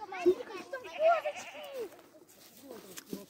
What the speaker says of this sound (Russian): Пойдем к козочкам, где козочки.